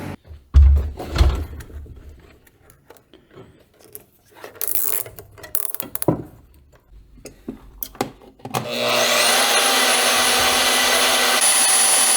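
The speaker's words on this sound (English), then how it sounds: "Oh man, the garage door." A high-lift garage door clanks and ratchets through scattered mechanical knocks and creaks, then a steady motorized hum sets in and runs loud and constant to the end.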